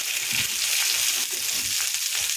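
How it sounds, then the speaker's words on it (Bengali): Mixed vegetables seasoned with salt and turmeric fry for a vegetarian sour dish, giving a dense, loud, continuous sizzle with faint low scraping underneath. "সমস্ত সবজিটাকে আমি হালকা ভেজে নেব"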